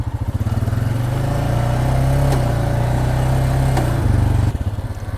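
A Massimo ATV's engine runs steadily while being ridden, a loud, close, throbbing drone that holds its pitch, briefly shifting near the end.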